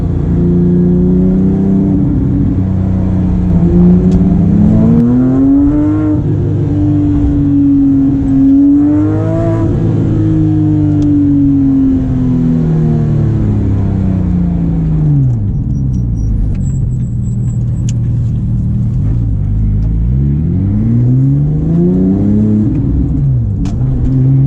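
A Porsche 997.2 GT3 RS engine heard from inside the cabin, loud and continuous, rising through the revs in repeated acceleration pulls with shifts and falling pitch between them, no talk.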